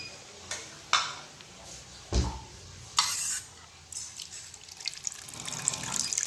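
Boiled eggs being rinsed under a running tap to wash off leftover shell bits, water splashing and gushing in short bursts that grow into a steadier stream, close by and without talk.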